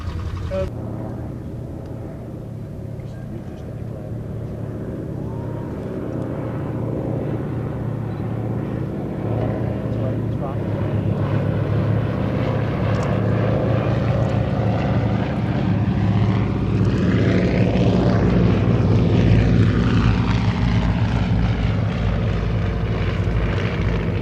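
A formation of three vintage American propeller aircraft at the Shuttleworth Air Show, engine drone building steadily louder as they pass overhead with a sweeping pitch shift, a commentator talking underneath.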